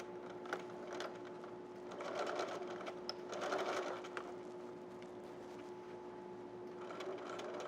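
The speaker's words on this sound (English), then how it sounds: "we're going to stitch along our previous line of stitching" A sewing machine stitching a zipper clutch handbag runs steadily in a soft, continuous hum with faint rhythmic ticking and a few small clicks, quiet and fairly distant, with no voices over it.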